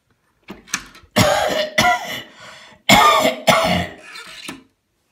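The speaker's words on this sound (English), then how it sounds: "who on earth could be coughing?" Several harsh, close coughs and throat-clearing bursts break out in a quiet house, coming in about five irregular fits over a few seconds with silence between them.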